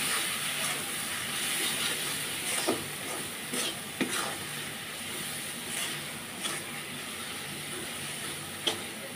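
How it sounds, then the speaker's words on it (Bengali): Spice paste with turmeric is stir-fried in a pan for a dried ribbonfish bhuna, producing a continuous close sizzle broken by occasional spoon scrapes and taps against the pan, with no voices. "এবার মশলাটা ভালো করে কষিয়ে নিব"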